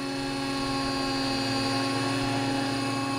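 A scale RC helicopter with a mechanical tail setup gives off a steady high-pitched rotor and motor whine during landing, with strong tonal hum at a constant moderate level.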